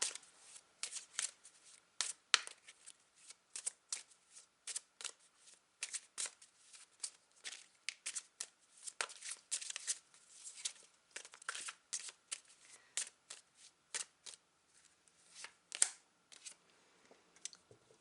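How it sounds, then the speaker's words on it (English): Tarot cards are shuffled by hand for a long stretch, with soft, quick riffling and flicking card sounds in an irregular rhythm, close by and faint in a quiet room with no speech. "I'm now going to draw one last card as a final message for you"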